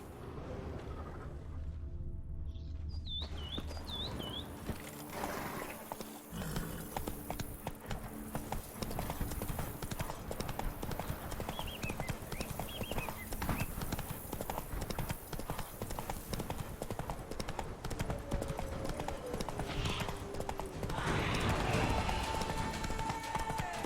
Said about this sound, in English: Giddy up. Whoa there, Roach